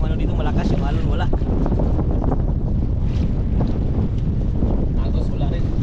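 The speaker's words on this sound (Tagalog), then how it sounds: "Hangin lang yung ano dito. Malakas yung alon." Strong wind buffets the microphone aboard a small boat at sea, a loud constant roar with rushing waves beneath it, while people talk throughout.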